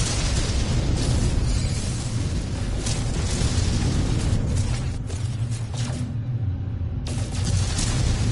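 Gunfire and explosions in the video game No Man's Sky, a dense, loud, continuous wash of blasts and crackling bursts that barely lets up, briefly dipping near the end before resuming.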